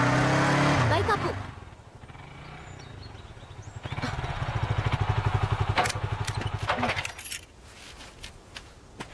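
A motorcycle in a Telugu film scene, its engine rumbling steadily at close range for several seconds before it cuts off, with voices talking over and around it.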